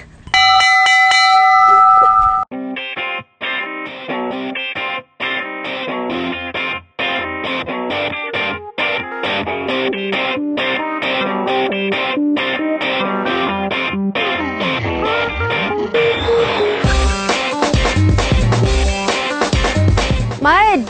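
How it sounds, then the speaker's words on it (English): A camp bell near a lake rings out loud in a long run of rapid, evenly spaced clangs with bright metallic overtones, mixed with distorted effects, and heavier booming sounds join near the end. "This bell indicates everything good in the world right now."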